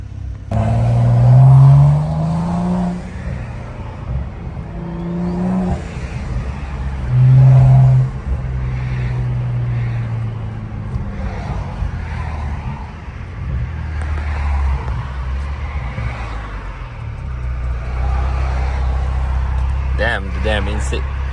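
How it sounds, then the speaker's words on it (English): A BMW F10 535i with a custom intake accelerates in a few rising pulls under a night drive, heard from inside the cabin with a steady road hum and someone talking over it. "intake sounds damn good, man."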